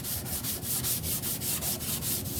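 Back-and-forth sanding on a Jeep TJ bed to scuff it before bed liner goes on, a steady rhythmic rasping stroke repeating about five times a second, close and alone.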